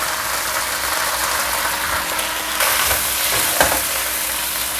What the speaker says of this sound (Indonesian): Bukan ikan seger yang aku goreng, bukan.